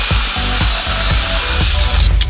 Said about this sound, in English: we use a non-vibrating rotating core drill with water to smoothly drill in and out of your stoop